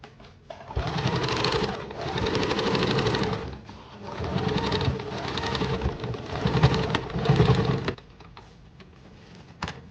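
A new sewing machine stitches a drawstring cloth bag, running in several rapid, even bursts of close mechanical whirring with brief stops between them and a quiet moment at the end.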